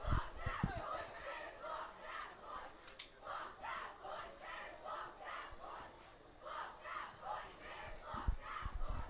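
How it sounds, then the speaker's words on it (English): A high school cheer team at a football game chants in a steady rhythmic pattern, with crowd voices rising and falling in repeated shouted phrases from the stands during an annual pink-out game. "A cheer team making a lot of noise here for New Bedford Vogue"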